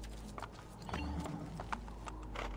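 Horse hooves clip-clop steadily while riding through the streets in Assassin's Creed 2, a quiet rhythmic trot over a low ambient game background.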